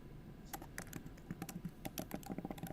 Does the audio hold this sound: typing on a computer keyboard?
yes